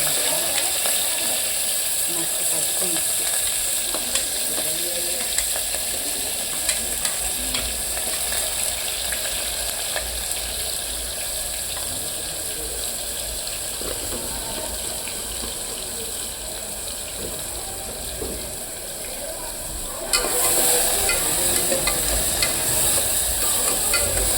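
Onion and green chili fry in a pan with cumin, making a steady, dense sizzle that runs unbroken throughout, with occasional stirring scrapes and a slight rise in level near the end.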